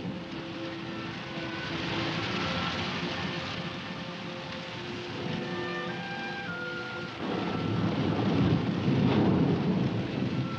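A thunderstorm rolls on steadily, heavy rain hissing throughout while low thunder rumbles and swells, growing louder toward the end, with no voices.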